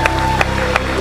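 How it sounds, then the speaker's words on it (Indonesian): Studio audience applause on an Indonesian comedy show, a short loud burst of clapping with a steady electronic hum beneath and a few sharp accents. "Tepuk tangan buat Marcel Widianto."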